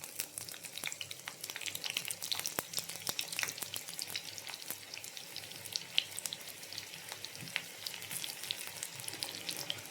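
Small chopped onions frying in hot oil in a pan, a steady soft sizzle with fine crackles and pops throughout, fairly quiet and close, no voices.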